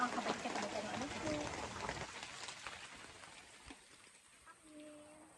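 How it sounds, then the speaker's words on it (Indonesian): Heavy rain pours steadily near an open rice-field hut, a dense hiss that fades somewhat toward the end, with a person speaking over it. "Kebetulan ditemani sama hujan yang deras sekali."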